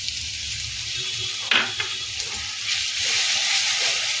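Steady frying sizzle as a paste of ground nuts and melon seeds loosened with water is stirred in hot oil, with a sharp scrape of the spoon against the pan midway.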